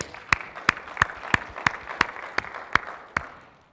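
A small audience at a Windows 10 developer conference session claps in about nine sharp, evenly spaced claps, crisp and close, then fades out.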